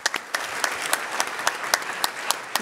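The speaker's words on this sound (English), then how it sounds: "Give them a round of applause." Audience applause at a startup pitch competition, sounding as a steady crowd clap with sharp, evenly spaced louder claps standing out, close and loud throughout.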